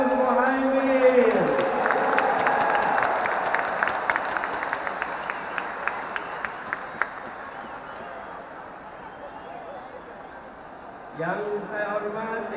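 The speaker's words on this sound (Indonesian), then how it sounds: "Tepuk tangan dulu yang meriah untuk Gus Muhaimin." A large stadium crowd at a campaign rally in Jakarta International Stadium roars and applauds, with sharp clapping and cheering swelling for several seconds before fading; a voice speaks over the loud crowd at the start and again near the end.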